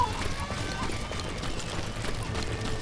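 Horse hooves clip-clop at a stable in the Call of Juarez Gunslinger video game, with a brief neigh, a steady moderate loop of footfalls under faint background ambience.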